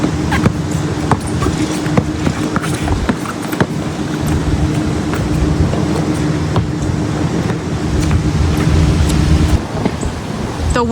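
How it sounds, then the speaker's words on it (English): Strong, steady wind roars through a winter storm at an open outdoor basketball court, a dense continuous rush with gusting surges and buffeting against the microphone, loud and unbroken for the whole stretch. "The wind is absolutely crazy, guys."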